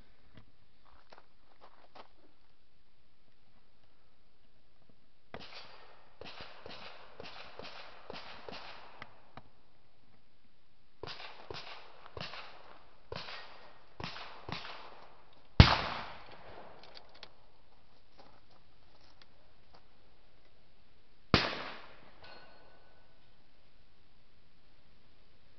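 A .308 rifle fired at a body armor plate during testing outdoors: two sharp, loud single reports several seconds apart, stand out among clusters of quieter clicks and handling knocks.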